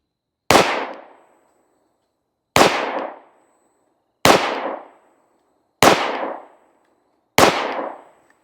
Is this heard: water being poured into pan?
no